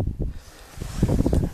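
Outdoor wind gusts buffet a camera microphone at night during a coin search with a metal detector, producing low rumbling thumps that come and go in uneven bursts.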